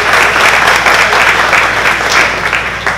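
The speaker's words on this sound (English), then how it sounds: "And so let's give ICD a round of applause." A large crowd at a Ramadan iftar dinner gives loud, sustained applause, dense clapping from many people filling the room without pause.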